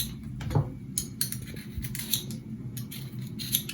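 Knife scraping and shaving the tough skin off a pumpkin or butternut squash in a home kitchen, a few crisp, close strokes with clicks of the blade against the board, no talking.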